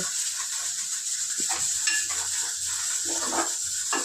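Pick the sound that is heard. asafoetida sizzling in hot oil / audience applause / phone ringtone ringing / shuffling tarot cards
asafoetida sizzling in hot oil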